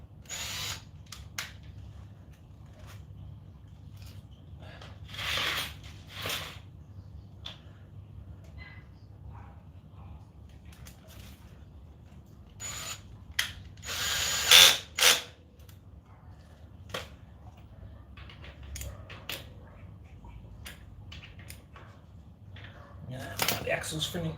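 A power tool tightens bolts on a Sur Ron electric bike during unboxing and assembly, running in short intermittent whirring bursts with pauses between them while people talk throughout.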